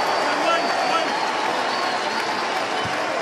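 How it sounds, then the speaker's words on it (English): Arena crowd at a Baylor vs Kansas State college basketball game gives a departing player a sustained, even round of applause, a broad dense wash with a commentator's voice faintly over it. "He gets a round of applause, well-deserved."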